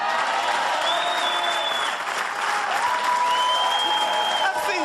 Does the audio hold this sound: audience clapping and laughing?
yes